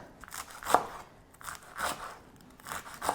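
A knife slicing through rolled-up greens on a cutting board for West African peanut soup, with several crisp, crunchy cuts at an uneven rhythm, close and fairly quiet.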